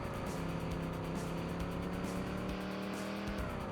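Racing truck engine in the TNN Motorsports Hardcore TR arcade game, on a Southern California track: a loud, continuous engine drone holding a steady pitch, then rising slightly, alone with no talk.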